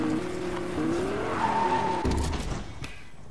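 Fortnite car braking to park, with tires squealing and skidding over a steady engine hum, then a short thump as it stops and the sound fades to quiet.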